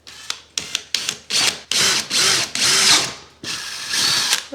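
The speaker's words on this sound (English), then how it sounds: "I've just got a relatively sharp HSS bit, so I just need to cut a couple of little holes" A power drill with a relatively sharp HSS bit bores small holes in SPC vinyl bathroom flooring, sounding as several short, loud whirring bursts separated by brief pauses, with no talk over it.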